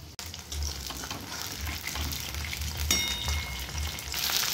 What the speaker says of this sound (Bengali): একে একে চিংড়ি মাছগুলো ভেজে নেব।